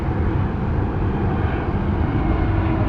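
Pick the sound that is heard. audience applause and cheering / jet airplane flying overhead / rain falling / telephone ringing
jet airplane flying overhead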